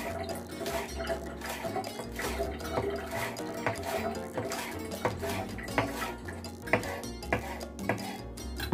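Dishes and cutlery clatter in a kitchen sink with running water, steady clinks and scrapes of washing up close by, no talk.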